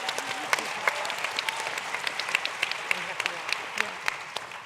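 Audience applause at a Netroots Nation 2018 panel, a dense wash of clapping that holds steady throughout, with voices faintly mixed in.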